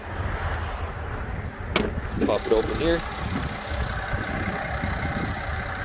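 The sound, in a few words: 2015 Mercedes-Benz ML350 3.5 liter V6 engine idling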